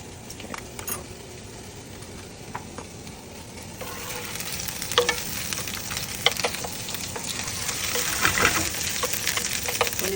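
Raw onion and mushroom fry together in a pan, a steady sizzle that grows louder and busier over ten seconds, with scraping stir strokes and crackles close by and no talking.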